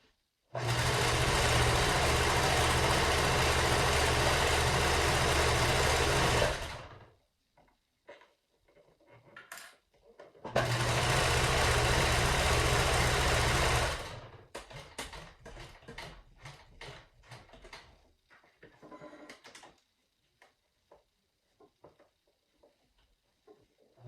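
A sewing machine stitches a pleated face mask in two loud, steady runs of several seconds each, separated by a pause. Scattered clicks and handling noises follow.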